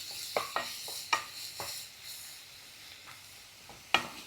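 Onion sautéing with salt in a pan for a king fish pollichathu, a soft low sizzle under a handful of sharp spoon-against-pan scrapes and taps as it is stirred, with no voices.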